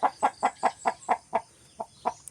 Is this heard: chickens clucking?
yes